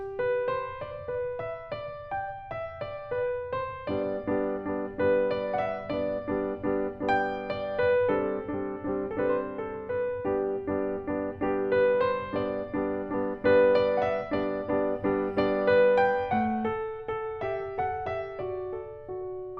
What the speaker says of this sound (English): Listen to how connected it's possible to play those left-hand repeated chords.